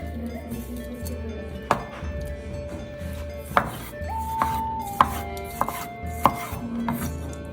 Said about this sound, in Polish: jednego pomidorka, pokroję w kostkę